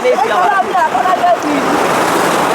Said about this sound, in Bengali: বিশাল বড় বড় ঢেউ গাইস বিশাল বড় বড় এসতেছে